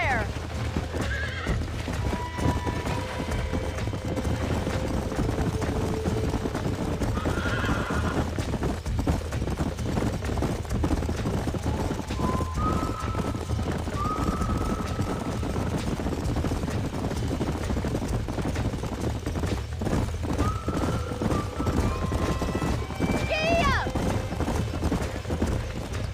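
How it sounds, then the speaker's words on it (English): Horses in the Red Dead Redemption video game, with steady clip-clopping hooves throughout and several whinnies and neighs rising over a continuous rumble, while voices talk intermittently. "These are fine horses."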